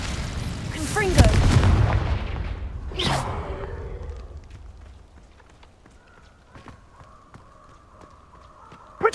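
Blasting-curse explosions in Hogwarts Legacy's combat, a loud booming burst early on followed by a second sharp blast, then scattered smaller impacts and clatter fading into quieter activity, with a final sharp hit at the end.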